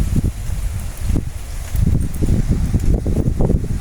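Gusty wind buffets loudly in uneven bursts, with rustling and rumbling noise rising and falling throughout.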